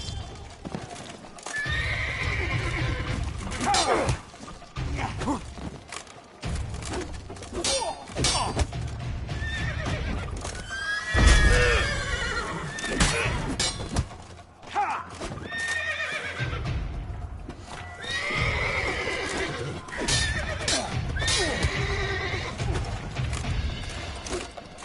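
Horses neigh and clop their hooves in a PS4 video game, repeated whinnies and galloping hoofbeats mixed with thuds and in-game action, sustained and fairly loud throughout.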